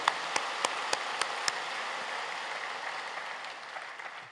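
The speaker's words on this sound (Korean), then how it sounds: "우리 하나님께 감사하고 박수 올려드립니다" A church congregation claps together after a sermon prayer, a steady, moderately distant patter of many hands, with a few sharper claps standing out at the start.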